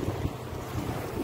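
Strong wind buffets the microphone during rain in Oman, a steady roaring rush with no voices.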